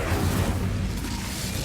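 A fiery Incendio spell cast in the Hogwarts Legacy video game, a steady roaring, rumbling rush of flame with a low booming body that holds loud and dense throughout, no voices.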